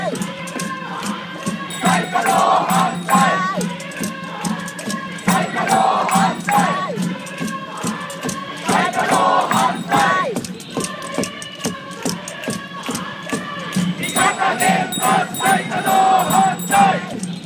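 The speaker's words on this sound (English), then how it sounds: "The crowd goes far back as usual." A large crowd at an anti-nuclear protest in Tokyo, near the Prime Minister's official residence, chants and shouts in loud rhythmic bursts, with a dense roar of voices continuing throughout and some sharp percussive hits.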